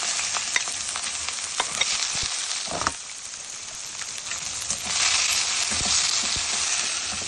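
Chili, onion and garlic frying together in oil for a rohu fish and bitter gourd curry. A dense, bright sizzle with sharp pops eases briefly, then surges back louder.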